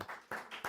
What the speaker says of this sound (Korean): 우리 주영이한테 박수 한번 보냅니다